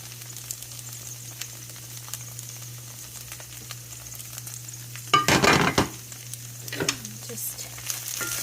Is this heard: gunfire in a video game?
no